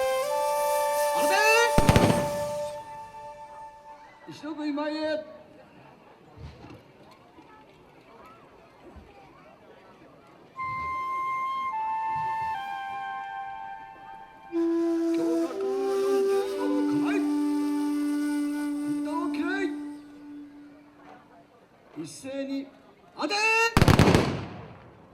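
Ashigaru infantry fire a full volley from Japanese matchlock guns: a sharp, loud burst of gunfire near the start and another massed crack near the end, with shouted voices and sustained tones between.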